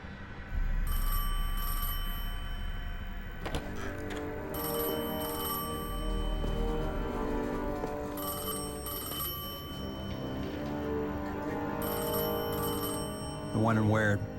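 Telephone ringing during a Destiny 2 cutscene, its repeated bell bursts recurring at steady intervals over a droning musical score, with a voice briefly heard near the end.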